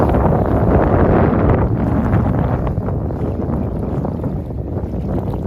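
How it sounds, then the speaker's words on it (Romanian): Loud, roaring mountain wind buffets the microphone continuously, a heavy rushing noise that barely lets up. "Dacă nu se vede că e vânt, e vânt puternic."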